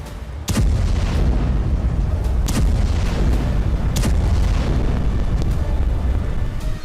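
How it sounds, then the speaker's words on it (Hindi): Explosions from the bombing of Iran's Natanz nuclear site make a continuous loud, rumbling roar, broken by several sharp blasts a second or two apart. "एक के बाद एक कई धमाकों से सेंटर आग की लपटों और काले धुएं के गुबार से घिर गया"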